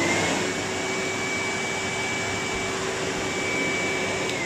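A repaired Hetty vacuum cleaner runs steadily nearby, with a constant whirring motor drone and airflow hiss and no other sounds.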